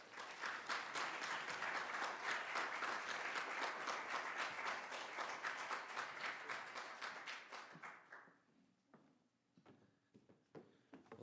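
Sustained audience applause from a large crowd at a library lecture, dense and steady, then thinning to scattered claps before fading.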